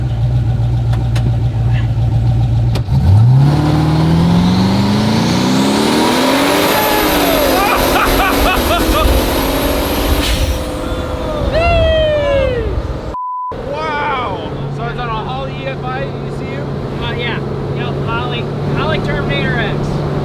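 A 1300-horsepower 2JZ-swapped Polaris RZR side-by-side revs hard up close, its engine note climbing in loud rising sweeps before dropping back and revving again.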